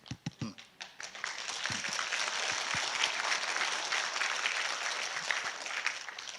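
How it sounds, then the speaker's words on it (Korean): Audience applause at an investment strategy seminar: a few sharp separate claps open, then many hands join into sustained, fairly close clapping that continues to the end. "지금 박수 치신 분"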